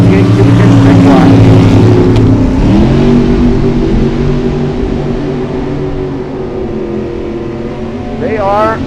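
A 1969 Camaro and an 87 Chevy Citation with a 468 cubic inch tank block at a drag strip, their engines roaring loudly and revving together, with a track announcer talking over them.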